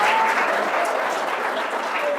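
Applause from a university audience at an Allahabad poetry recital, a steady dense wash of clapping throughout, with a voice faintly audible underneath.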